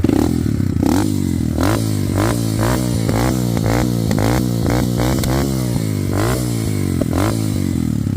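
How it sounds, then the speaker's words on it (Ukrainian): A Sparta SD200 enduro motorcycle engine is revved again and again in quick throttle blips, loud and close, with a steady idle rumble between the bursts. "Зараз давайте трохи погазуємо і послухаємо, як на ньому працює двигун."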